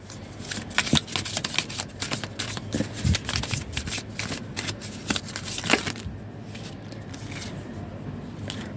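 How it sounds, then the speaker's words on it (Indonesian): A large deck of cards being shuffled by hand, close riffling and flicking bursts in uneven waves that die away into quieter rustling near the end, with no talk. "Banyak sekali kartunya gini ya teman-teman. Jadi di shuffle juga sulit."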